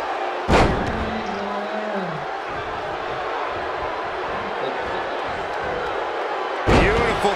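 A women's championship bout at a large arena: a wrestler slams onto the ring mat with a heavy booming thud, a second impact follows near the end, with crowd noise and commentary running throughout.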